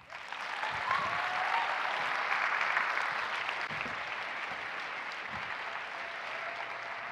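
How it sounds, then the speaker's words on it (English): Audience applause for professors at a USITT 2016 keynote address, a steady dense wash of clapping from a large crowd that holds at a constant level for about seven seconds. "I would like you to give a round of applause to all your professors"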